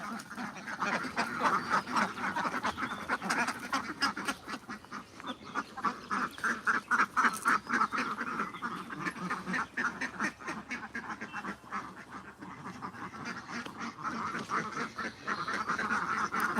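Ducks quack continuously on a duck farm, a dense overlapping flock chorus that stays steady and fairly loud throughout with no pause.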